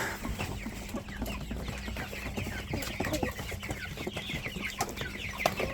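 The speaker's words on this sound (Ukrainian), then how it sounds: "Зараз іду грузити маленькі курчата." Chickens cluck steadily in the background, a busy flock of overlapping short calls with scattered louder squawks, fairly faint and continuous.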